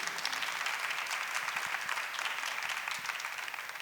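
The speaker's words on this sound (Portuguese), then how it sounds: "Vamos aplaudir a palavra de Deus." A church congregation applauds during a Mass homily, a steady wash of clapping hands that holds alone for about four seconds.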